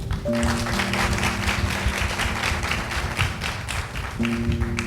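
A church congregation claps together in a dense, sustained burst of applause, with a steady sustained keyboard tone underneath that stops partway and returns near the end.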